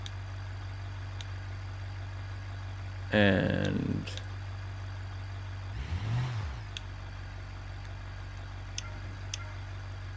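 A truck engine in the BeamNG driving game idles with a steady low drone, then revs in a sharp, loud burst that falls away, followed by a shorter, softer surge; a voice speaks one brief word.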